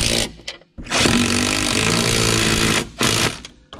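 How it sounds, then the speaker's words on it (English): A power tool runs nuts onto bolts during a 2003-2011 Honda Element lift kit installation, sounding as a loud, close, steady mechanical whir in two bursts, the longer one lasting about two seconds, with no talking. "All you have to really do is get the nuts started."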